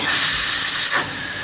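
A loud, steady hiss of steam jetting from a pressure cooker whistle while cooking kurma curry, continuous throughout and easing slightly toward the end.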